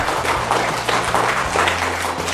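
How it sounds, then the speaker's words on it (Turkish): A room applauds an invited guest at a Rize Menar ceremony, steady dense clapping from many hands that holds for about two seconds, with a low hum underneath. "Alkışlarınızla."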